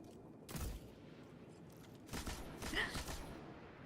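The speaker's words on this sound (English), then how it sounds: "LMGs are awful at range" Bursts of light machine gun fire in a first-person shooter, two or three rough rattling volleys separated by short pauses, moderately loud amid quieter background with occasional talk.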